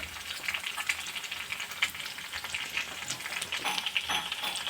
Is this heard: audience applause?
no